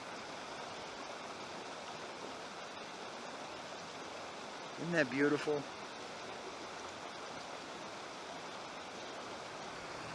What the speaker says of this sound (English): Most awesome sound on the planet right there, running water.